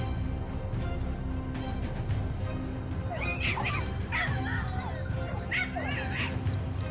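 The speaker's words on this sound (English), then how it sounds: "The familiar sound of our hunting dogs filled the air." Hunting dogs on a wild boar hunt in swampy country yelp and whimper in high, wavering bursts over a constant low rumble, the cries coming in scattered clusters partway through rather than as steady barking.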